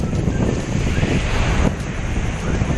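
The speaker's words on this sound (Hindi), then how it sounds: "तो ये ऊंचे ऊंचे लहरें आ रही हैं और हमें भिगो रही हैं।" High sea waves surge loudly onto the shore at Madhopur village, a continuous roaring wash heard close up with heavy wind buffeting the microphone and no talk.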